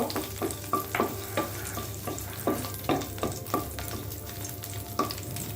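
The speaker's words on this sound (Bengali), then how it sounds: "আর দিয়ে দিব রসুন কুচি, এটাও একটু লাল করে ভেজে নিব।" Chopped garlic fries in oil with dried red chillies, a constant low sizzle broken by a regular series of spatula taps and scrapes against the pan, close and moderately loud.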